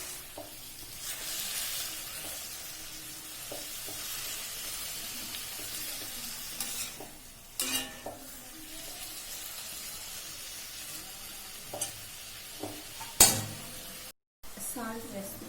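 Tomatoes and mint fry lightly in a pan for chutney, giving a low, steady sizzle with occasional stirring clatters and scrapes, and a few louder knocks near the end.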